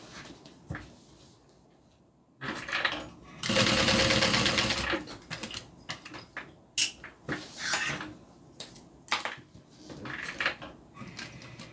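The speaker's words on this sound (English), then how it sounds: "I went from sewing the inside lining to sewing layers of vinyl" Sewing machine stitching through several layers of vinyl, a sustained loud burst of rapid stitching followed by shorter runs and pauses, close by, with clinks and handling noises between.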